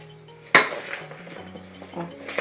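Spoon stirring a cucumber salad in a bowl: one sharp clink against the dish, then softer clatter and scraping, with a faint voice murmuring underneath.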